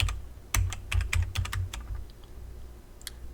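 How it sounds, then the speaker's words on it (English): Typing on a computer keyboard, close and clear: a quick burst of crisp key clicks for about a second and a half, then a few scattered taps and a pause with one last keystroke. "Now you want to type in the address bar"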